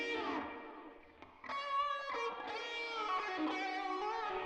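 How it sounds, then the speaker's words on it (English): Electric guitar lead through a phaser effect with a sweeping, swirling tone, sustained notes bending over a short phrase, heard alone at moderate volume. "Then I wanted it to kind of like be a little more phasey, so I threw a phaser on."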